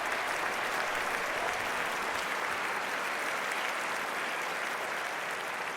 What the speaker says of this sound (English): The crowd go wild and they respond.